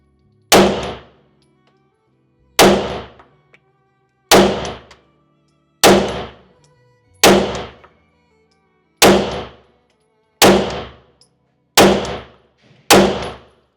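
Nine loud, sharp gunshots from an M&P 2.0 Metal pistol firing 124 grain ammunition, spaced at a steady, deliberate pace of about one every one and a half seconds, each with a short ringing decay, close to the microphone.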